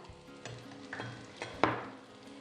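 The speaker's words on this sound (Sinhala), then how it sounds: "අපි තෙල් ටික රත් වෙගෙන එන්නේ. ඒකට අපි බී ලුණු ටික එකතු කරගන්නවා." Chopped onions frying in hot oil in a home kitchen for onion rice, a soft steady sizzle broken by a few sharp clinks of a spoon stirring the pan, quiet and close.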